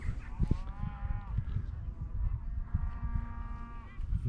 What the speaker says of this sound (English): And some cows as well.